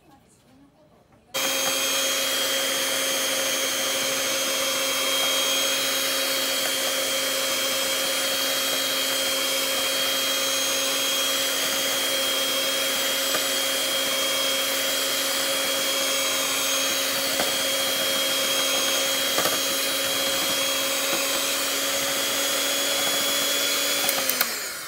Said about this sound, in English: Let's whisk this heavy cream.